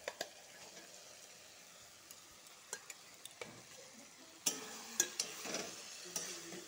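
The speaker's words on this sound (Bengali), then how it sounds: "পনিরটার সাথে ঝিঙ্গার সাথে মশলার সাথে ভালো করে একটু লাড়াচাড়া করব, ভেজে নিব।" Paneer and ridge gourd are stirred with spices in a pan over a faint frying sizzle, with scattered utensil clinks and scrapes growing sharper toward the end.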